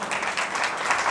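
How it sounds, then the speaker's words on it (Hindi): A congregation applauds loudly at a Mother's Day church service, a steady wash of many hands clapping together at full strength for the whole moment, without pause. "आए जोरदार तालियां"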